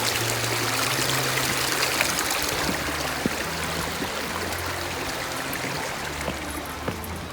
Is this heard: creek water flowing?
yes